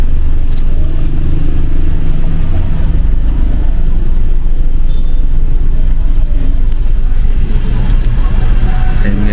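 Car engine running at a gas station during refueling, a loud, close, steady low rumble that continues without a break for the whole stretch.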